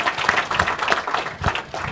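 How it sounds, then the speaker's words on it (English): A short burst of audience applause at a college centennial speech, uneven clapping from a crowd that rises and dips over a couple of seconds. "I'd like to be the first then in this centennial year to lead a round of applause for the achievements of the Terry College."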